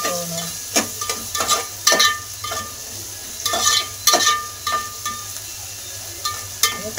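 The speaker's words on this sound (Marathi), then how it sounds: "बघा कांदा आपला कसा तळतो, चांगलं तळून घेऊ कांदा" Chopped onion and cumin seeds fry in a pan with a continuous crackling sizzle. Frequent sharp spatula scrapes and stirs repeat irregularly, close and fairly loud, with no voices.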